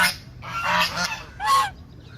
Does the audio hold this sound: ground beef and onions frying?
no